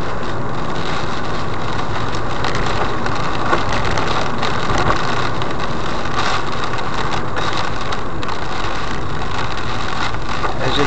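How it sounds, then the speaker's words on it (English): A car engine with an odd fault noise while driving, a steady broadband drone of road and motor sound running throughout, loud and continuous with no talking. "I'm getting a funny noise on the engine"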